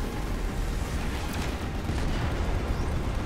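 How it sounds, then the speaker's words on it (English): A dense, rumbling blast rolls on in a Final Fantasy 15 battle, a continuous loud booming roar with crackling debris layered through it, heard alone without speech. "Something exploded."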